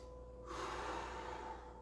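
One long, audible breath during an online martial arts class, a soft breathy rush that swells for about a second and then fades, close and quiet.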